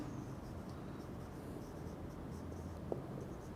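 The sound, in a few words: writing on a board during a chemistry lecture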